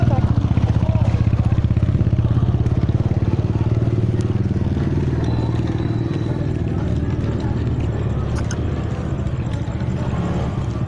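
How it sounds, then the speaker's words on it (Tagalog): A motorcycle engine drones steadily nearby as people talk over it, with some clattering in the background. "Tabi, may motor."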